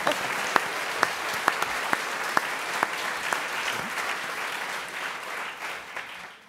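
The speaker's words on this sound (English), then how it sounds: "You can clap." An audience applauds steadily to welcome the candidates at the 2017 NDP leadership debate in Vancouver. A few sharp, louder claps stand out near the start, and the clapping slowly thins toward the end.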